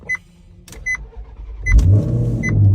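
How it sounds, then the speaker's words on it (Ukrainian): A Maserati GranTurismo from 2019 is cold started with a key: several faint chimes and clicks, then the starter cranks and the engine catches into a loud, deep, rumbling idle that holds steady to the end. "Ну, холодний старт."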